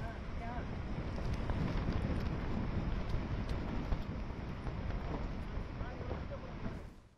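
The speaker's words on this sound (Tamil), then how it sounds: "தற்போது சென்னை பட்டினப்பாக்கம் கடற்கரை பகுதியில் பலத்த காற்று வீசி வருகிறது." Strong cyclone wind from Cyclone Mandous roars across Pattinapakkam beach in Chennai, a continuous blustery rush buffeting the microphone with surf-like rumble, steady and loud throughout before cutting off at the end.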